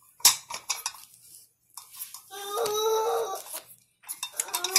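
Small metal bunting cake pans are handled and knocked together, giving bright clinks, rattles and a ringing resonant tone, close and fairly loud, with pauses between clusters and no talking.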